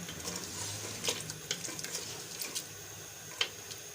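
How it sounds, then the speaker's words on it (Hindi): A spoon stirring degi-style aloo gosht with freshly added potatoes in a pot makes soft scrapes and a few sharp ticks against the metal, all quiet and close, with no talking. "मिक्स करेंगे इसको भी अच्छे से"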